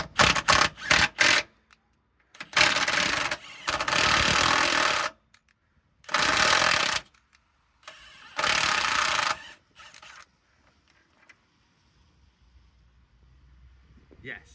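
A wrench or ratchet worked back and forth on a seized lower wishbone bolt of a Citroen C1 makes several loud, close bursts of harsh grinding clatter separated by pauses, then fades to quiet.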